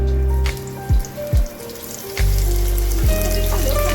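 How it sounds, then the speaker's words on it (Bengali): Cauliflower pieces fry in very hot oil in a wok, giving a steady loud sizzle and bubbling hiss throughout, close by, with faint background hum and no talking. "কড়াইয়ে তেলটা খুব ভালো করে গরম হয়ে গেছে, এবার আমি ফুলকপিগুলোকে ভালো করে ভেজে নেব।"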